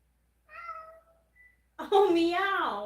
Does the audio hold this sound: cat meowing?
yes